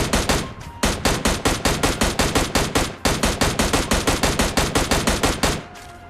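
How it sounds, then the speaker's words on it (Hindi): Rapid automatic gunfire in PUBG Mobile Lite rattles off as a dense, steady stream of loud shots with one short break, then tapers off at the end. "मतलब गन साउंड।"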